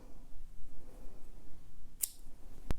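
Scissors cut light gray yarn in two quick, crisp snips, the second sharper than the first, over quiet room noise.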